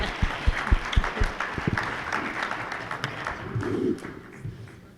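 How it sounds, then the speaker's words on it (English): Applause from a seated audience thanking a panel of experts at a winter shelter volunteer orientation in Ashland: a few sharp, close individual claps at first, then a steady, moderate patter of many hands that fades near the end. "Let's give a nice round of applause to our panel experts"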